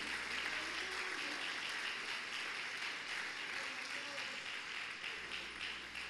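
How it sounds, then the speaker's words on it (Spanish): A church congregation applauds during a sermon, a fairly faint wash of clapping that holds steady and thins toward the end, with some voices mixed in. "Denle un aplauso al Señor, todo el que cree que Dios tiene poder"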